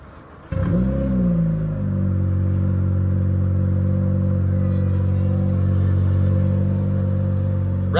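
A straight-piped inline-four Honda Civic engine starts up and settles into a steady, loud, close-up drone with a slight rise in pitch midway, heard alone with no talking.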